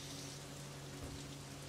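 Steady, faint rain hiss from the Assetto Corsa racing game, continuous and even, with no other sounds standing out.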